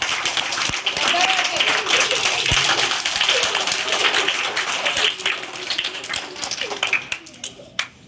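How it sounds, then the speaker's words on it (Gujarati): Girls applauding boys at a children's gathering, a burst of loud group clapping that carries under talk and then thins out and fades toward the end. "જોરદાર તાળીઓ બધા છોકરા માટે પાડવાનું છે।"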